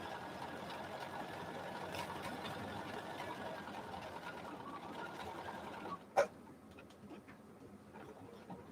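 Sewing machine stitching a quarter-inch seam on a fabric mask, with a low, steady mechanical whir that stops near the end, followed by a single sharp click.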